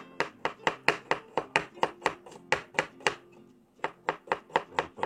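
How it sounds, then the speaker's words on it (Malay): Knife chopping an onion on a board, about two dozen crisp, evenly spaced strokes at a brisk steady rhythm, close and clear, with a short pause near the end before the chopping resumes. "Okey, kita potong dulu bawang ni."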